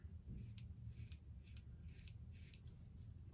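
Dry razor strokes from a High Proof razor scraping across skin without lather, several short rasping passes at an even rhythm, close up and quiet, with no talking.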